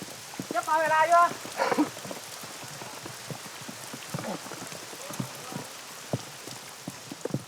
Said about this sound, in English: The drizzle that's been falling since they started out has now turned into a heavy downpour.